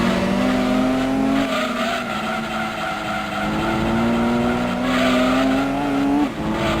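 Race car engines roar loudly in Gran Turismo 2, with steady high engine tones shifting pitch and sustained tire squeal as a car skids through turns, continuous throughout with no talking.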